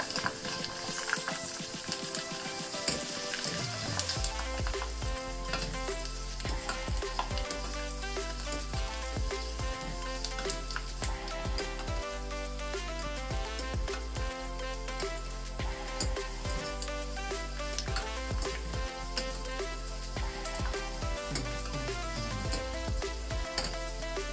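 Pork crackling fries in a small, well-filled pan, a dense, loud, unbroken crackle and bubbling with rapid popping that runs steadily throughout after a quieter first few seconds.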